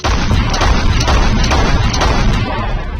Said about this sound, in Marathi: जोपर्यंत त्या पाच तोफांचा आवाज येत नाही